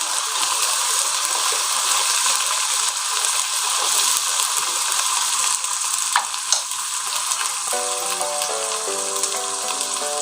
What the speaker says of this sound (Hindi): लहसुन अदरक को फ्राई करेंगे।